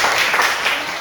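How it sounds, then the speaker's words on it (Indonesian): Students in a classroom give a short burst of clapping, fairly loud and close, with irregular hand claps over about a second. "Beri tepuk tangan untuk"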